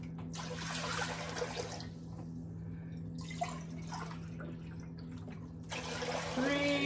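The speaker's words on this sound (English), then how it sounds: "So let's add our 4 cups of distilled water" Distilled water poured into a stainless steel pot on a burner, a broad splashing rush in two or three bursts with brief pauses, under a steady low hum.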